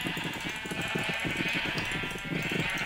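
Sheep in Minecraft bleat in a steady run of short, wavering calls, several overlapping close by over a constant background, with no talking.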